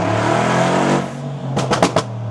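A car engine revs hard in a long sustained roar on dry pavement with all four wheels spinning, then cuts to a few sharp rhythmic bursts and crackles.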